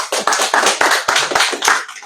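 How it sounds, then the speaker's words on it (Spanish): Audience applause at a book launch in Bogotá, Colombia: a short, dense burst of many hands clapping close by, fading out after about two seconds. "un aplauso ahí, un abrazo del hijo"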